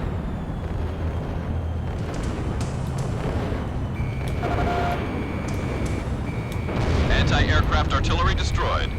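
Explosion of an anti-aircraft artillery emplacement in Ace Combat 6, a rumbling blast and thudding detonations beneath steady jet engine noise, with radio voices and warning tones over the top.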